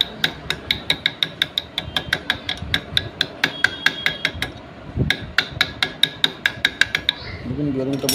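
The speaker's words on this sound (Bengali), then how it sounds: "এবার এখানে বিয়ারিংটা বসিয়ে দেবো চলুন" A bearing is hammered into the gearbox of a TVS Victor GL motorcycle with a long run of steady, ringing metallic taps close by. There is one brief pause, and a different mechanical noise follows at the end.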